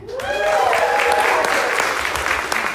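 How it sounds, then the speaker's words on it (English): Church congregation applauding the announcement team, a steady, full burst of clapping throughout with a voice briefly audible at the start. "Can you please help give a huge round of applause for our announcement team, Matthew and Lindsay Rock."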